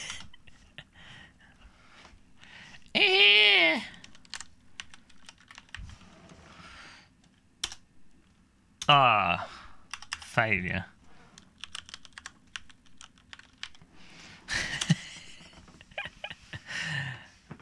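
Keys on a computer keyboard clatter in bursts of quick light clicks, close and soft, with pauses between runs while someone talks briefly over them.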